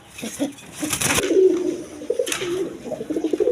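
Several pigeons coo at a pigeon farm, their low throaty calls overlapping in a steady stream, broken by brief bursts of rustling or wing flutter close by.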